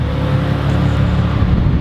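A Nissan 350Z's steady low engine rumble idles close by, with wind noise over it and no clear revving.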